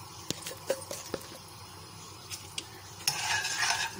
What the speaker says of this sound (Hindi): कतली का बघार लगा रही है